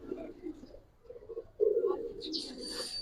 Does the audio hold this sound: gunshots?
no